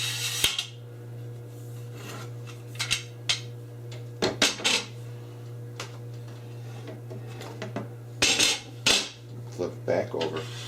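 Parts of an EZSMART universal edge guide are slid and fitted together, giving sharp plastic and metal clicks and rattles at irregular intervals over a constant low hum.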